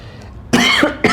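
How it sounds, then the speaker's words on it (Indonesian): A person coughs twice close up, two sharp bursts separated by a short pause, after a moment of quiet. "Sampai batuk gue."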